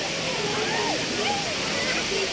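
A waterfall in Antipolo, Rizal, swollen with canal runoff, gives off a steady, loud, broadband roar throughout. A person talks over the rushing water.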